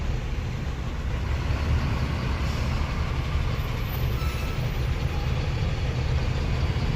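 Heavy highway traffic surrounds a truck on the road in Gujarat, a dense, steady rumble of engines close by with a faint hiss of air brakes, and no voices.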